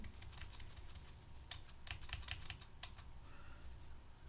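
Computer keyboard keys are pressed in quick clicking bursts, including presses of the Enter key, sounding close and fairly quiet with brief pauses between runs and no speech.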